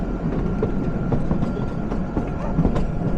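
Kalka-Shimla toy train pulling out of Kumarhatti station, a low steady rumble with soft rhythmic wheel clicks, moderately quiet and heard from aboard with no talking.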